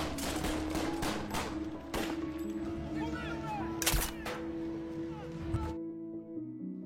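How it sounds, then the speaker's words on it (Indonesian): Sniper gunshots ring out in a film action scene as sharp, loud cracks, several fired in quick succession over a background of music and voices. "tembakan sniper melumpuhkan anak buah Angelo satu persatu"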